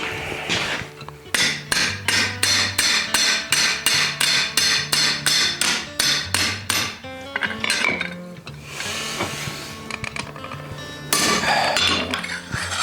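Hammer striking a rivet on a handmade metal door knocker, a loud close run of ringing metallic blows in a fast steady rhythm, then a pause, some clinking handling and a few more strikes.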